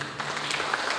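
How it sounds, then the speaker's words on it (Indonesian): A church congregation at a Sunday worship service gives a brief burst of soft applause, a dense patter of many hands heard from a distance. "Tepuk tangan buat Yesus."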